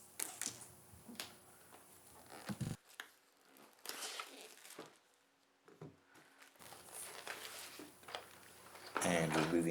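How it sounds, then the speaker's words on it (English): A plastic-wrapped cardboard box from a Lumineth starter set is cut open and the wrap peeled away, giving soft crinkles, scrapes and snips close by under intermittent talking. "So let's just cut straight into it and remove the plastic wrap."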